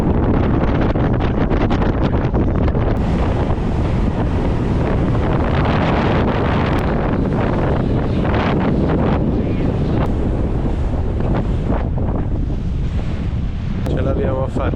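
Strong wind buffets the microphone on a speedboat bouncing at speed toward the Phi Phi Islands off Phuket, with the roar of the hull and splashing spray hitting hard and continuously, loud and close.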